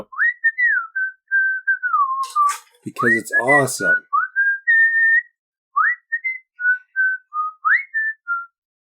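Someone whistles a bouncy melody in short phrases, with a brief spoken remark in the middle, close and clear.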